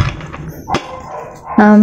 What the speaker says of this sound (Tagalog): Pasensya na sa tahol ng aso kung naririnig nyo.